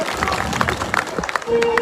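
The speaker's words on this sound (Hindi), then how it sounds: "एक बार जोरदार तालियों से आप उनका स्वागत करें" An audience at a village youth association gathering claps to welcome the village head, a short burst of dense applause with voices mixed in.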